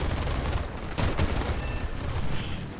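Sustained aircraft machine gun fire in War Thunder during a Fw 190 A4 dogfight, a dense continuous roar of rapid shots filling the whole stretch, loud and steady with no talk.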